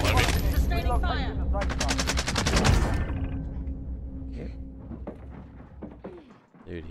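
Rapid bursts of gunfire in the video game Warzone, a dense volley in the first three seconds followed by scattered shots, with players talking over the action.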